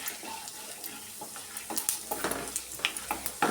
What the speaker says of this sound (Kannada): ಎಲ್ಲ ಹಾಕಿ ಚೆನ್ನಾಗಿ ಫ್ರೈ ಮಾಡ್ಕೊಳ್ಳೋಣ